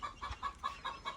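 A hen clucking on a farm where eggs are being set under her, a steady series of about six short, evenly spaced clucks, fairly close and moderately loud with no talking.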